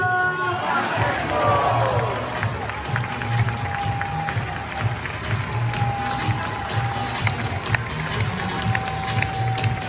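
A stadium crowd welcoming player number 17 after a league-winning football match, with sustained applause and cheering across a large space, steady and broad, and a few whistle-like tones rising above.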